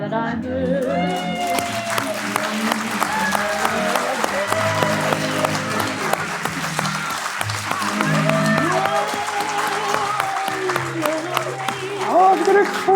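Steady, enthusiastic audience applause fills the space, dense clapping sustained throughout with a few voices and cheers mixed in.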